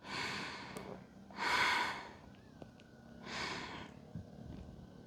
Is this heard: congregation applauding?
no